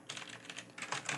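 Computer keyboard typing, a quick run of soft, close key clicks at a steady pace, quiet and alone with no voices.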